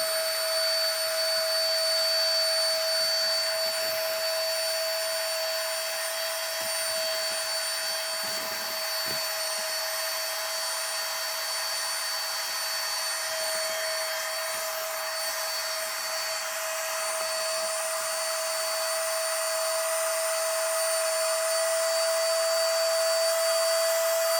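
A wireless air pump draws air out of a vacuum storage bag holding a pillow, a steady high-pitched motor whine and airy rush held at even loudness for over twenty seconds, with no talking.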